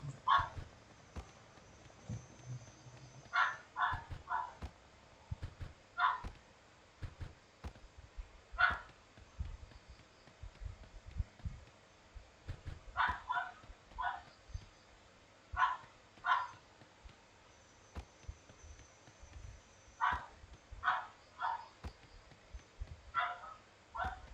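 A dog in the Sausage Man video game barks in repeated short bursts, single yaps and quick pairs spaced irregularly over a quieter background of game sounds and footsteps, fairly close.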